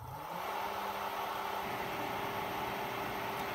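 A Pentair IntelliFlo pool pump running up to 2,000 RPM, a faint steady motor hum with a tone that rises and settles early, then holds evenly.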